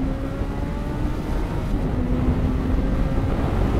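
A Suzuki B-King motorcycle engine held at high revs, a loud, steady, dense drone with a droning tonal hum running unbroken throughout and no talking.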